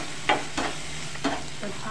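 Spiced vegetable masala with green chilli and red chilli powder roasts in a pan for Maharashtrian misal, a steady close sizzle broken by a few quick stirring scrapes.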